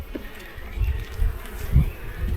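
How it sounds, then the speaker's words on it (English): Honeybee colony getting ready to swarm, a close, continuous buzzing hum with louder low pulses as bees move near the microphone. "It looks like they're all ready to swarm"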